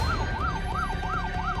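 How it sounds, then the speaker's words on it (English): Wailing ambulance siren sweeping up and down in steady repeated cycles, heard from inside the vehicle with a constant low road rumble underneath and no talk. "We're in the ambulance."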